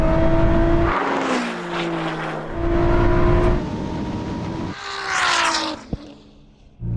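A Ferrari SF90 and a 1000hp Nissan GT-R at a drag race, loud engines rising through repeated gear-shift pitch climbs, fading, then surging again as the cars pass, followed by a sharp click.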